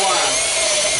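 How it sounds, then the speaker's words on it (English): A power drill bores into cedar wood while a bluebird house is built, giving a steady, close, high-pitched whirring grind that runs unbroken for the whole second. "but this drill is not real strong"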